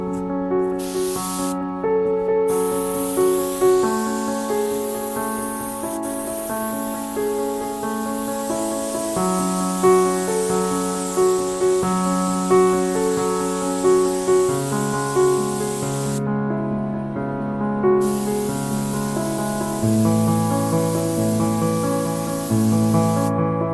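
A spray gun lays a black epoxy primer coat with a long, steady, loud hiss that cuts off briefly between passes. A constant backdrop of layered sustained tones continues underneath throughout.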